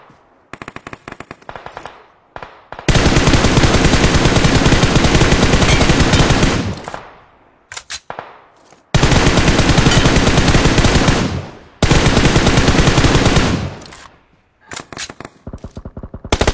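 Automatic gunfire in PUBG Mobile, with long sustained bursts of rapid shots separated by short gaps and scattered single shots, loud and close, with no talking over it.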